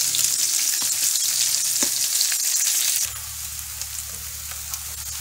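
Eggs fry in a large frying pan, giving a steady, loud, close hiss and crackle with a few sharp pops; about three seconds in the sizzle drops a little and settles into a lower, even sputter. No one speaks.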